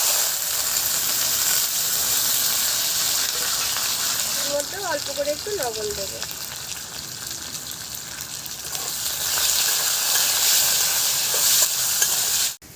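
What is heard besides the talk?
diced potato frying in hot oil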